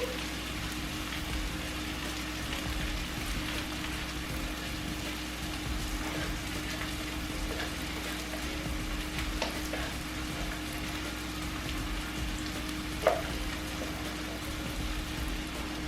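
Onions caramelizing in a pan, a steady close sizzle and gentle crackle running throughout with a faint hum beneath and one brief clink, no talk.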